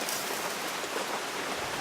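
Steady rain falls outdoors beside a grill, a broad, even hiss of drops on surfaces, close and moderately loud, continuous with no speech.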